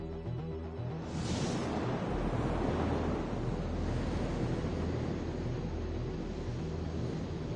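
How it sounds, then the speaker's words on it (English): Surf washing onto a tropical beach at night near Cartagena in The Grand Tour video game, a steady broad wash of waves and wind rolling continuously with a brief brighter swell near the start, no voices. "on a tropical beach"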